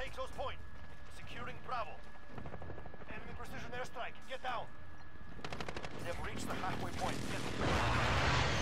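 Rapid gunfire rattles in a first-person shooter game on a sniping map, with bursts of shots under and between players talking, growing louder and denser toward the end.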